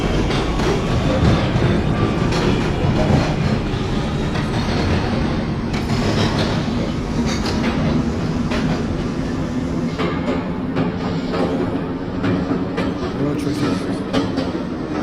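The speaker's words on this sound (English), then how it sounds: "1847 Alpha is about to enter 59th Street, Columbus Circle" R179 subway train running in the OpenBVE simulator, a steady rumbling roll with faint rail clatter continuing throughout, with radio-style talk over it.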